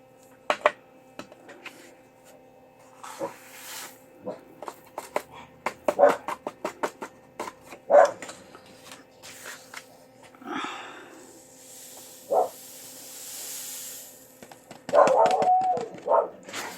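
A dog barks in sharp, scattered bursts, some single and some in quick clusters, close by in an otherwise quiet room.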